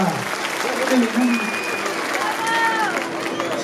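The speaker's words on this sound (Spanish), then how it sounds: "¿Y dónde está el aplauso, señoras y señores?" Applause from an audience at a live comedy show in Ambato, Ecuador, a dense steady clatter of clapping lasting a few seconds, with some music tones and voices faintly mixed in.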